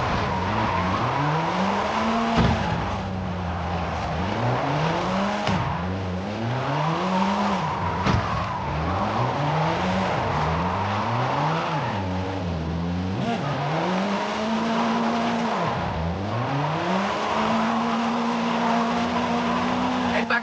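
Drifting car in Forza Horizon 5 at a drift club, engine note rising and falling in repeated waves over continuous tyre squeal and skidding, loud and steady throughout.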